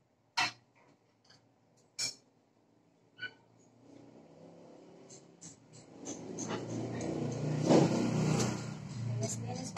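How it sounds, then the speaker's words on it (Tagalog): Vehicles pass along a roadside: after a few sharp isolated knocks, a passing car rises into a loud, close whoosh that swells and lingers, with people talking nearby. "Kaya marami mga dumadaan na sasakyan."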